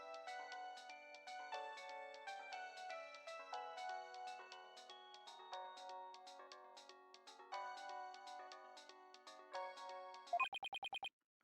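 A phone ringtone playing a song, a bright melodic tune repeating at moderate volume, ending in a few quick electronic beeps and then cutting off.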